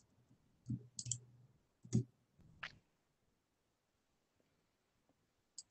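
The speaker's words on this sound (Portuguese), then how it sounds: "E com a tecla Enter, Laís." Several soft key taps on a computer keyboard, among them the Enter key, come as a short cluster of close, quiet clicks, followed by near silence and one last faint click.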